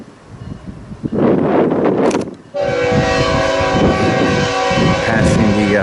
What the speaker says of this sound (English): Hitting the Main Street crossing.